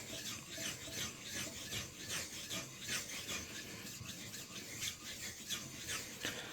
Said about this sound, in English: I use an old DMT just to flatten out the stone and to raise a little bit of a slurry.